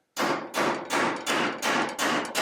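Copper tubing has its end pounded flat by a hammer to make a battery terminal: six loud, sharp metallic blows at an even, steady rhythm, close by, with no talking.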